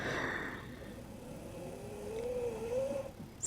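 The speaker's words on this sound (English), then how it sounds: "Can you even hear me talking above Jack snoring?" A pet named Jack snores softly and steadily, with one long drawn-out rasping breath near the end.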